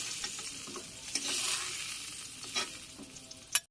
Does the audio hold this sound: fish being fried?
yes